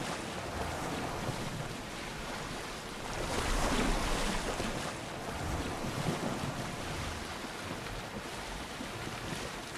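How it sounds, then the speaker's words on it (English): Steady ocean waves and wind surround a boat at sea in the video game Assassin's Creed Odyssey, a broad continuous wash with a swell of surf around the middle. "boat can't handle the waves out there."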